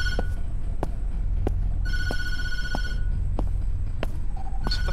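A telephone rings repeatedly in a horror video game, sharp electronic bell bursts sounding at a steady rhythm over a low droning ambience, with no talking.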